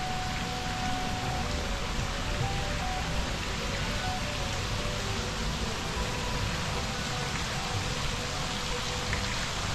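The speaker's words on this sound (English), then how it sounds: "waterfall along the swimming pool." Water cascades from a waterfall feature along a hotel swimming pool in Bali, giving a steady, even rush of splashing that holds at the same level throughout, with no voices.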